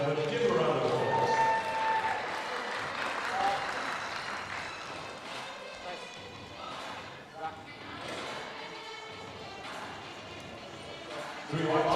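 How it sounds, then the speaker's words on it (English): Applause from the audience for the table staff at a powerlifting championship, dense clapping that is loud at first and fades over several seconds, with a room announcer's voice and crowd noise alongside. "Give a round of applause."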